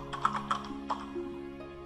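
Fingers type on a computer keyboard in a quiet room, a short run of light, close keystrokes at an uneven pace with no talking.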